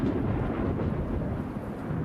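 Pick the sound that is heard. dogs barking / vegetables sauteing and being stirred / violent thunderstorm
violent thunderstorm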